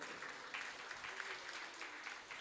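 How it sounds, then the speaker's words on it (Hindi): An audience in an ashram discourse hall claps to welcome a visiting saint, a shrih mahant, with sustained, fairly even clapping and a faint voice underneath. "एक बार जोरदार ताली स्वागत करें।"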